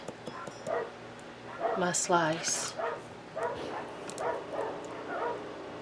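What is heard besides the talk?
dogs barking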